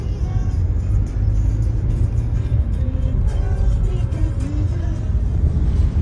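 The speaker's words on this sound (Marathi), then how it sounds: "गाडी" A car engine hums steadily at close range from inside the vehicle, with a continuous low rumble and faint road whir throughout and no clear talking.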